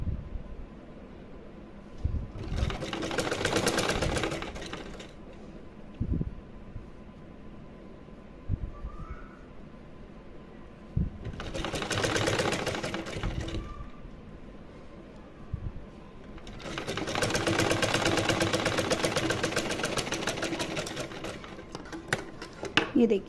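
A sewing machine stitches net fabric for a small dress in three separate bursts of rapid whirring, loud and close, with quiet pauses between them.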